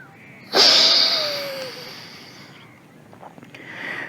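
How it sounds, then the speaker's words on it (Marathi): A single forceful breath pushed out through the right nostril during pranayama practice, a sudden loud rush of air that fades over about a second, followed by quieter breathing. "उजव्या नागपुडीनं भरलेला श्वास सोडायचा आहे"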